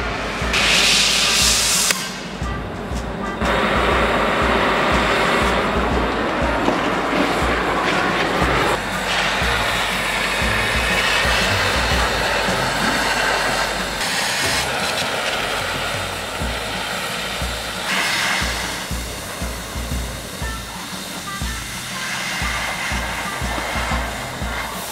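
A steady, loud roaring hiss of a gas cutting torch, continuous and broadband, with slight shifts in intensity throughout.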